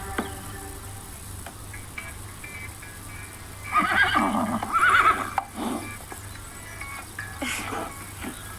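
Horses and ponies in a played-back recording whinny twice in the middle, two loud, shrill neighs over a steady background hum, with fainter clicks and rustles afterwards.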